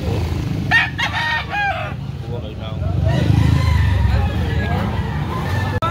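Several roosters crow loudly at a rooster farm expo, with overlapping crows in the first two seconds and more crowing later, under steady crowd chatter and a low rumble of nearby engines.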